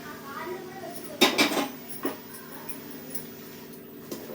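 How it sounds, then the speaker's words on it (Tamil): Kesari being stirred in a pan with ghee and oil, giving a cluster of loud metallic scraping clinks near the start, then a few lighter taps against a quiet kitchen background. "இப்போ இது வந்து கை விடாமல் நல்லா கிளறிட்டே இருங்க"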